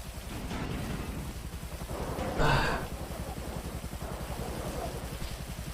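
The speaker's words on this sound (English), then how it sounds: "Is the rain all fucked up?" Rain falls in a GTA roleplay video game as a steady hiss across the whole clip over a low rhythmic rumble, with one brief louder burst near the middle.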